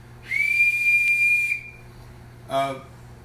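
A long, steady high whistle blows for over a second, then a shorter, rougher blast follows after a pause.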